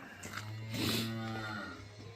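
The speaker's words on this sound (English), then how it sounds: "Cows probably want me to feed them too." Cows in a feed barn on a foggy, rainy, chilly day, one close, loud, drawn-out moo rising and then fading over about a second and a half, with no talking.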